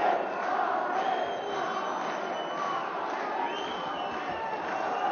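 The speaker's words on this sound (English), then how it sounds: "Listen to this crowd." A loud, sustained crowd roars and yells throughout the final minute of an amateur MMA bout between Belarusian and Moldovan fighters at an Eagles event, with surging cheers and shouts filling the arena.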